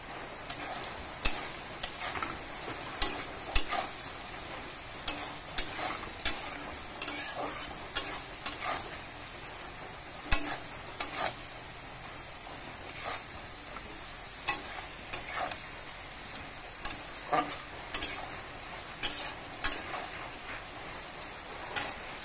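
Food fries in a pan under a low constant sizzle while a utensil stirs and scrapes it, producing frequent irregular clinks and scrapes throughout, fairly quiet and without speech.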